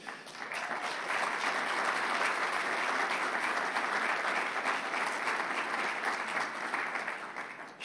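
Audience applause at a governor's climate announcement, a sustained burst of many hands clapping in a large crowd. It holds loud and even for several seconds and does not fade.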